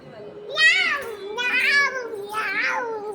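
A voice imitates a cat, drawing out three wavering meows one after another, close and fairly loud.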